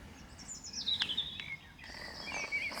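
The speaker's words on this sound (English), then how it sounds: "Birds happy enough, they're feeding away." Birds chirp while feeding on a spring morning, a few clear, bright calls and twittering phrases rising and falling against a quiet outdoor background.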